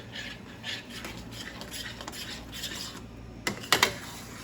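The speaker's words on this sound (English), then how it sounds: "Make sure you're scraping the sides, scraping the bottom." A spoon scrapes the sides and bottom of a pot of dill risotto with cheese stirred in off the heat, giving soft rubbing strokes and then a few sharper metallic scrapes near the end, close and alone.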